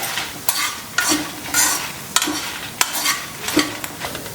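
Ingredients stirred and roasted in a dry pan, with a spoon scraping in repeated short strokes about every half second, each stroke a crisp rustling scrape over a light sizzle, close and fairly loud, no voices.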